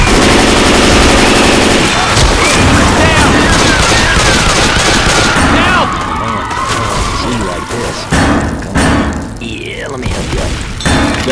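Rapid bursts of gunfire from Left 4 Dead 2 as players shoot down the Witch, loud and dense with overlapping shots, thuds and clatter, mixed with game noise and brief voices.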